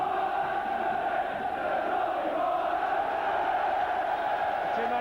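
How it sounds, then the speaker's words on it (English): A large crowd roars steadily at a 1988 St Helens v Wigan rugby league match, a dense, sustained wall of cheering voices at even loudness. "Tremendous cheers from the popular side."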